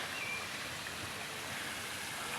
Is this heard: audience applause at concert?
no